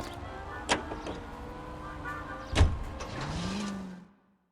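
Car engine and road noise in the L.A. Noire video game, a steady moderate drone with a couple of brief knocks, ending in a rising whine before cutting to silence.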